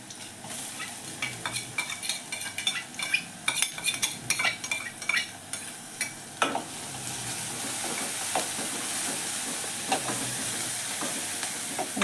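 Ginger, garlic, mint and coriander paste sizzles in a pan with golden-brown fried onion, with steady frying hiss, repeated stirring scrapes and clinks of a utensil against the pan, close up and without talk.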